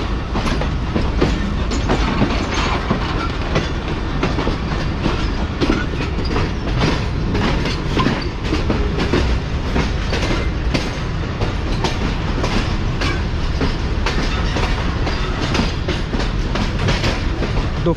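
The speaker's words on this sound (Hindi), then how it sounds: "तो फाइनली ट्रेन जो है वो मेन लाइन पर आ चुकी है।" The Karakoram Express rolls along the main line on its Lahore to Karachi run in a loud, steady rumble with rhythmic clickety-clack from the wheels, heard up close from inside the train.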